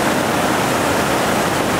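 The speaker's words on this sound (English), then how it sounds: "Rafters approaching initiation rapid here." Whitewater of the Initiation rapid on the Gauley River, a dense, loud, continuous roar of churning water close by with no voices.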